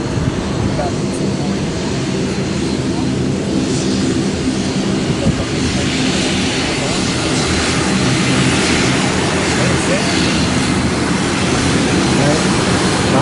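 A propeller airplane lands at Chubu Centrair Airport, its steady engine roar rumbling continuously from a distance across an open observation deck, with people talking over it throughout.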